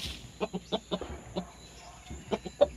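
An Aseel gamecock rooster clucks at a small poultry farm, a series of short, moderately close clucks in an uneven rhythm with brief pauses, over a faint steady background hum.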